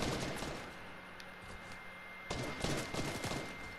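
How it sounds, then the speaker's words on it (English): Gunfire from an unseen enemy in Fortnite crackles in a rapid burst of repeated shots, loud and close, over steady background game noise. "Who's shooting me?"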